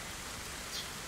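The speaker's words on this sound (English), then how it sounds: "the rain that is coming down heavily" Heavy rain pours down in the survival game DayZ, a steady, dense broadband hiss that holds evenly throughout without breaks.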